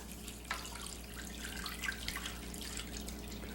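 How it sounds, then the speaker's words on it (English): Water from a measuring cup poured onto cornmeal in a baking tray, a steady splashing trickle with soft spatters, heard close and alone in a kitchen. "4 cups of water to mix with cornmeal."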